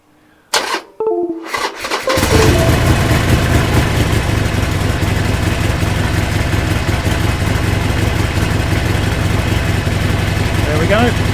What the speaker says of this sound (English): Turn the bike on and put it to run